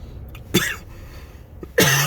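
Two sharp, close coughs, the second harsher and more abrupt, with a brief quiet pause between them.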